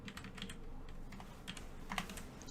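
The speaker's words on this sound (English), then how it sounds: "Oh, this is a small keyboard." Rapid, irregular clicking of keys on a small computer keyboard, close and fairly quiet, with a few louder taps standing out.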